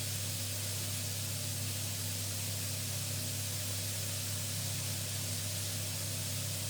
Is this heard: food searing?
yes